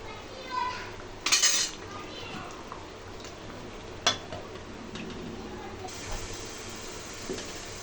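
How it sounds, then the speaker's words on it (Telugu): Fish curry stirred in a metal pot and covered with a lid, with a low steady simmer, a few clinks and scrapes of the spoon, and a sharp metallic knock as the lid settles, all fairly quiet. Someone talks briefly. "ఒక్కసారి ఇలా కలిపి మూత పెట్టుకోండి"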